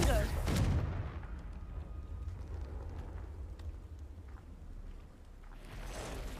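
Hogwarts Legacy video game combat with the Confringo fire spell, a sharp explosive blast at the start that decays into a low rumbling roar with scattered impacts, and a voice faintly under it.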